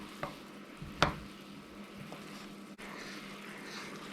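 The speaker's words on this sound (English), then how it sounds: "we just want to stir that in and melt that butter into that syrup mixture." Butter is stirred into a syrup mixture in a pan, heard as faint, sparse spoon scrapes and soft clinks over a low, quiet background.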